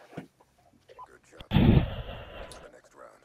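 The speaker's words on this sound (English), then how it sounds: "We got people using shotguns" A shotgun fires in the video game Call of Duty: one loud, close blast that rings out and fades over about a second, with a voice talking before and after it.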